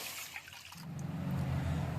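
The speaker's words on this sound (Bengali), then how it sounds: "এবার কড়াইয়ে এক বাটি জল দিচ্ছি ফুটার জন্য।" A bowl of water being poured into a wok, starting quiet and then swelling into a steady close splashing gush that fills the second half.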